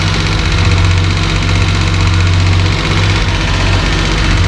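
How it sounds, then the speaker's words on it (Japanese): Suzuki Carry DC51T mini truck engine idling roughly with an unsteady, knocking beat, a steady close low rumble throughout with no talk. "ただねアイドリングが突然ねバーンと上がったり"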